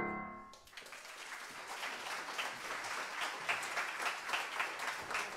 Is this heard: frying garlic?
no